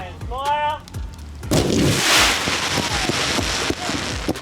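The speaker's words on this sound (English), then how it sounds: "It took us all by surprise, the old fireworks." Fireworks go off at a pre-season event, giving a sudden, loud burst of crackling and booming that continues as a dense, sizzling roar after a brief voice is heard.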